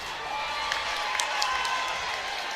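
Spectators at a boys' high school basketball game in Ohio stand, cheer and applaud, making a steady wash of crowd noise dotted with sharper claps and shouts.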